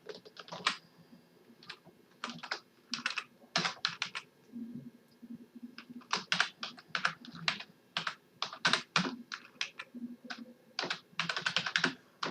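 Keys clatter on a computer keyboard as jQuery code is typed, in quick irregular bursts separated by short pauses, close and clear in a quiet room with no talking.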